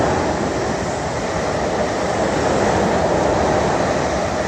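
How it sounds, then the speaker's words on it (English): A fast train rushes past close by, producing a loud, steady roar of wheels and air that holds for several seconds without letting up. "Sorry, here comes the train."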